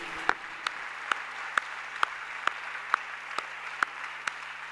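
A church congregation claps in unison, with about ten sharp, evenly spaced claps over a faint steady background hum.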